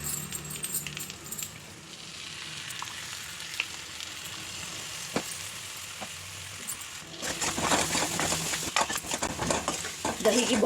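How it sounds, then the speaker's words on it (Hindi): Yogurt and onion paste is stirred into small raw potatoes cooking in a pot for spicy dum aloo, with soft scraping and clinks at first, then a louder burst of sizzling and stirring near the end. "जो दही और प्याज का पेस्ट बनाई थी उसे भी इसमें मैं डाल देती हूँ।"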